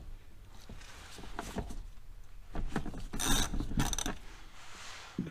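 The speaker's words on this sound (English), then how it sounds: "Now we can start taking these bolts out." A ratchet works on bolts of a 2021 Subaru STI during an oil change, giving a run of close mechanical clicks and scrapes that grow louder midway.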